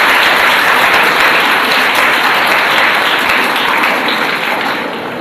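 Audience applause welcoming a speaker at an Urdu job fair, a dense, steady wash of clapping from a large crowd that holds loud throughout and eases slightly near the end.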